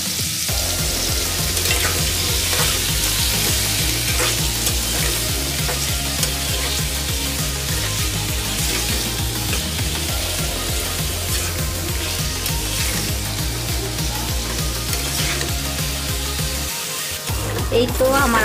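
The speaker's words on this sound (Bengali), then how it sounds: "আলুটা ভেজে নিব।" Potatoes fry in a pan with a little salt and turmeric, giving a steady, loud sizzle that runs through the whole stretch, with faint stirring scrapes and no talking.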